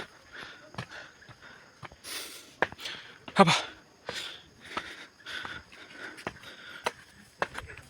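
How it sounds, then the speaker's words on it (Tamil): Heavy, wheezy panting and sniffing from a traveller after climbing more than a hundred steps on a river path at Trang An, Ninh Binh, Vietnam, with irregular breaths close to the microphone and a brief spoken word. "மூச்சு வாங்குதுங்க."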